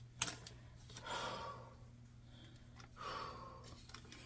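Heavy, strained breathing from a person in pain while changing the dressing on a feeding tube, with two long ragged breaths and a few sharp gasps, close and moderately quiet over a steady low hum.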